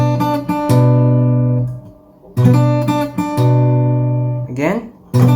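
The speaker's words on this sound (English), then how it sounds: "you'll pluck the 5th string again, the bass note." Fingerstyle acoustic guitar plays a song, plucked notes ringing with a deep fifth-string bass note; a few short picked phrases repeat, close and clear, with no one talking.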